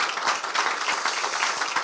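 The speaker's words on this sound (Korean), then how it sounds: "힘내시라고 박수 한번 주시기 부탁드립니다" Lawmakers in South Korea's National Assembly give a round of applause, a dense, continuous wash of many hands clapping together at an even level across the short moment.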